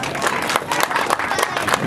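Audience applause at a Lake Seminole FLW Everstart fishing tournament weigh-in, a loud continuous clapping from a crowd with rhythmic bursts and some cheering mixed in.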